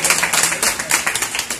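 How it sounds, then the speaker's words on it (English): Audience applause at a community event, loud and close, a fast irregular stream of overlapping hand claps that rises and dips in bursts without pause. "if y'all could just give them a round of applause again"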